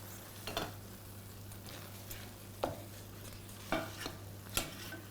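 Kimchi fried rice being mixed in a pan, with a faint low sizzle and a few spaced scrapes and taps of a spatula against the pan, quiet and close, plus a steady low hum.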